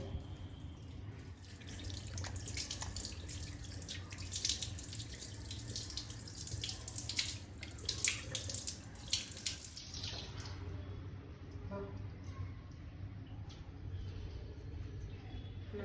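Tap water runs steadily in a bathroom sink while a face pack is scrubbed off, a close continuous splashing stream with small drips and brief rubbing sounds.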